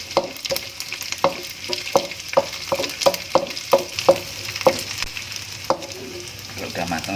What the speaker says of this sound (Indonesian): Pertama saya akan menggoreng ikan asinnya dulu ini.